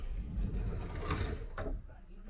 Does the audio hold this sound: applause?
no